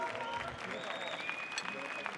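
Audience applause at an international catering cooking competition, cheering on a Swiss team, a steady clatter of clapping under ongoing voices of an announcer and crowd.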